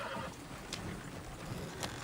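A horse in the Red Dead Redemption 2 video game gives two short whinnies, heard faintly over a constant ambient game background.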